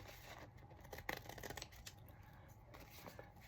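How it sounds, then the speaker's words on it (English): Scissors snip and slice through fabric up close, a series of quiet crisp cuts with soft rustling of cloth between them. "those other scissors, they don't cut very well with the fabric"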